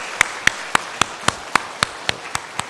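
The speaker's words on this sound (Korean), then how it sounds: "환영의 박수로 우리 한번 환영하겠습니다." A church congregation at a Sunday morning service claps in welcome to newcomers: about ten sharp, evenly spaced claps, close and fairly loud, with no voices over them.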